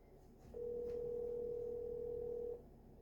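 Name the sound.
telephone dial tone while placing a call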